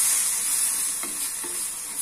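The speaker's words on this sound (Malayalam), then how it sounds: "ഇതിനകത്ത് കുറച്ച് തിളച്ച വെള്ളമാണ് ഞാൻ ഒഴിക്കുന്നത്." Boiling water is poured into a traditional gooseberry pickle, giving a faint hissing sizzle with a couple of soft splashes, close and quiet, without any talk.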